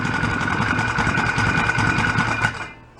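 Small gas engine fitted to an antique pedal bike, revving hard and steadily with a buzzing, rattling drone for over two seconds, then dropping off abruptly as it cuts out near the end.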